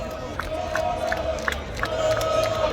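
Botafogo football supporters chant together outside Banfield's stadium in Buenos Aires, a massed crowd singing heard from a short distance, steady and continuous with rhythmic accents and occasional shouts.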